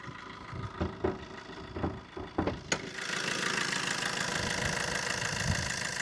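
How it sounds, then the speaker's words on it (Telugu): A 2016 Tata Zest's Quadrajet diesel engine starts after a few clunks and knocks, then settles into a steady, close, moderately loud idle. "వెహికల్ ఇంజిన్ చూస్తే మాత్రం వదిలిపెట్టరు అనమాట. అంత స్మూత్ బీటింగ్లో ఉంది."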